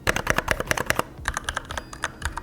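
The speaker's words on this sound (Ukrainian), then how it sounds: "Клавіатура Keychron K8 Max на червоних свічах." Rapid typing on a Keychron K8 Max mechanical keyboard with red switches, quick, fairly soft clacks in bursts and a brief lull partway through, close up and without voices.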